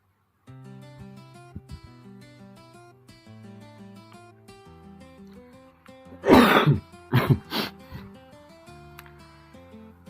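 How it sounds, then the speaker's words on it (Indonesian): Several harsh coughs and throat clearing from a smoker trying a cigarette, close and loud, over quiet background music with sustained tones. "lagi batuk ya saya"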